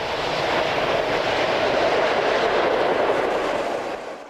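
ÖBB class 1042 electric locomotive heading west out of Melk, a steady, loud rolling roar of a passing train with faint wheel clatter, fading slightly at the end.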